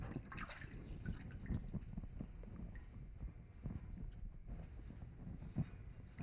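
Garden tools being rinsed with water, a faint irregular patter of splashing and dripping with soft knocks.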